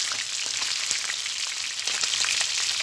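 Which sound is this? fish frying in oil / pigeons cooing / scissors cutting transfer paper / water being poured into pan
fish frying in oil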